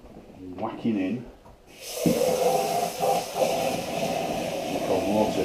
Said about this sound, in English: Tipping the water in from as high as possible to aerate it.